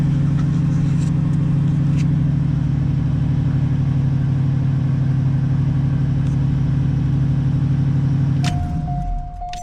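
An 1986 Oldsmobile Cutlass 442 engine runs on a rebuilt Quadrajet carburetor, idling close and loud with a steady low rumble that then drops as it winds down near the end.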